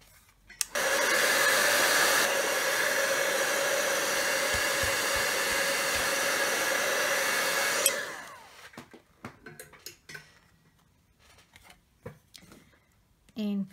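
A hair dryer blows steadily on distress paint for about seven seconds, loud and close, then cuts off, followed by light handling sounds, taps and rustles.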